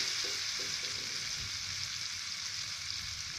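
Spice paste for young papaya stir-fry sizzles steadily in a hot pan, a continuous close frying hiss with a few soft stirring scrapes early on and no talking.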